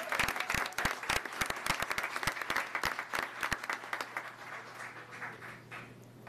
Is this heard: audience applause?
yes